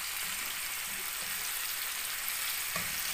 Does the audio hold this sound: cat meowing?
no